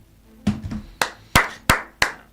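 A few sharp hand claps, about five spaced unevenly over two seconds, fairly close and alone against a quiet background.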